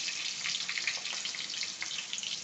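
Garlic paste sizzles in a pan over a low flame in an Indian home kitchen, giving a soft, steady crackle with small pops. The sound is faint and close, and no one speaks.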